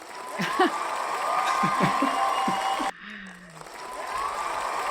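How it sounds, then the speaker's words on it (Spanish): Audience at a discussion gathering applauds and cheers loudly with some whoops and voices for several seconds, then the clapping drops away and a quieter room remains with a voice speaking. "Basta con los aplausos"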